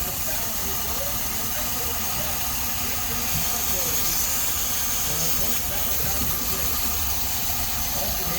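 A car engine runs steadily during a BG fuel intake cleaning service, a constant hissing, whooshing hum at close range with a faint low idle rumble underneath.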